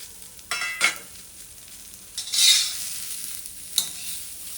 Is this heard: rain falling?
no